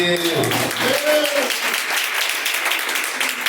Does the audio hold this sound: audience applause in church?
yes